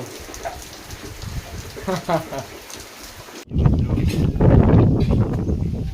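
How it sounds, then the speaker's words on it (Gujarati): Steady rain patters and hisses on surfaces, growing heavier and louder partway through, with brief voices in the first half. "મેઘરાજા વરસવા મળ્યા છે"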